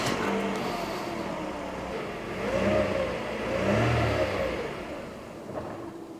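A Mercedes W124 E220 engine, bolted back together after a repair, turns over and catches, then revs up and settles in a couple of swells, heard from nearby with no talking.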